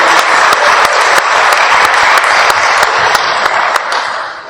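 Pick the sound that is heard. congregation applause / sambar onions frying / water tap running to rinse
congregation applause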